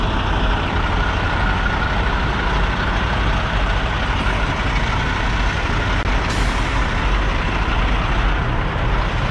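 Trucks idle at a fuel station, a dense, constant diesel rumble that is loud and unbroken throughout, with faint higher hisses near the middle.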